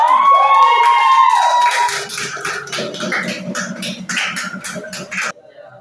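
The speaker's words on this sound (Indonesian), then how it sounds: "tepuk tangan buat kelompok" A classroom claps for a presenting group, a lively burst of hand claps that starts after a moment of voices and runs a few seconds before cutting off, with children's chatter mixed in.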